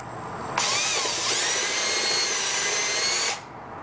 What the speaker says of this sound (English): I'm going to press up on the right side of the casing while removing the rear right screw.